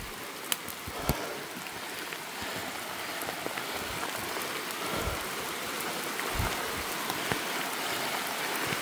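Heavy rain pours through a forest in a dense, steady hiss, with occasional sharper drips and splashes standing out. No one speaks.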